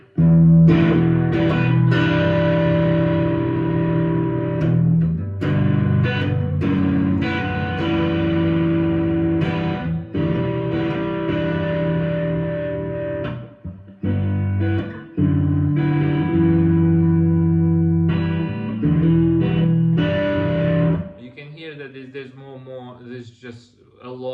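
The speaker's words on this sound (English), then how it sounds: "Like a fuzzy kind of distortion where there's really a lot of volume being pushed" Heavily distorted electric guitar through a Greco humbucker neck pickup, with a thick, fuzzy low-end tone, playing loud sustained chords and riffs, ending with a warbling, wavering note.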